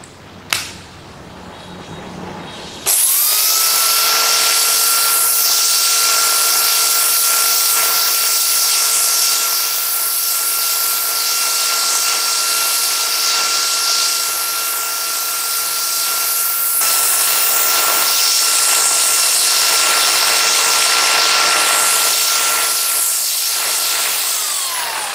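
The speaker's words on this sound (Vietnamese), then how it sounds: "dòng máy cưa điện Husqvarna HCS405G này hoạt động vô cùng mạnh mẽ và độ ồn vừa phải" A Husqvarna HCS405G electric chainsaw starts with a short click and then runs continuously at a steady high whine, close and loud, holding one pitch with a slight dip and rise partway through and no one talking.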